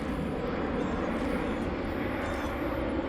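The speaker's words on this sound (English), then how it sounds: "That's the big boy airplane." A large Emirates airliner passing overhead, a steady loud broadband jet roar filling the whole stretch, heard outdoors on a walk without voices.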